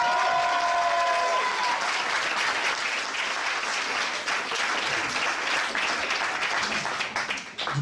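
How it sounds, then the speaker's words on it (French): Loud, sustained applause from a large comedy show audience, dense clapping filling the whole stretch, with a brief held tone at the start before it tapers at the end. "on peut lui faire vraiment un tonnerre d'applaudissements."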